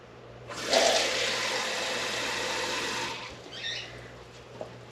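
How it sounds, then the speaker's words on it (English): Tap water gushes into a container holding scooped-out tomato seeds, a loud steady rush of about two and a half seconds that cuts off, followed by faint trickling and small clinks. "Now you're going to add water."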